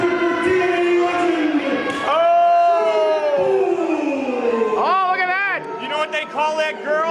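A capacity crowd at an NAPW heavyweight championship wrestling event cheers loudly for Shark Boy, with sustained yelling and high, rising shouts from many voices, swelling and wavering throughout.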